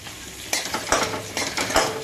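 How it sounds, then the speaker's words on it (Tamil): Spatula scrapes and stirs onions frying in a hot pan, with a steady sizzle underneath and a few sharp clinks of utensil against metal. "வெங்காயம் இப்போ அது கூட சேர்க்க போகிறேன்."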